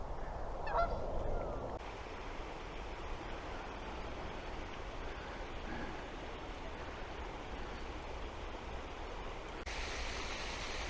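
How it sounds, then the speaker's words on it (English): Geese honk a few times near the start beside a running stream, their calls brief and fairly close, then fading out while the steady rush of flowing water continues quietly and alone for the rest. "I'm going to have a little bit of competition from geese here because they are all around me, so there'll be a few squawks going on"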